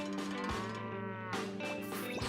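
A cow moos in one long, loud, close bellow with rich harmonics, a brief break, then a second lowing call, no voices present.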